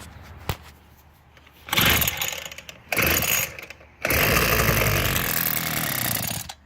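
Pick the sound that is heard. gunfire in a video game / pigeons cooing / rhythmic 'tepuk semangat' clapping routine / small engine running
small engine running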